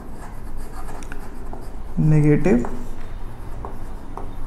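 Chalk or marker writes briefly on a board during an electrochemistry lecture, a short scratchy stroke heard under the teacher's ongoing speech.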